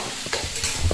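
Masala frying in a pan for grass carp curry, a steady sizzle with scraping stir strokes, fairly loud and close, no talk.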